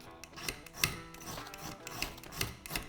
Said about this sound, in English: let's get the scraping going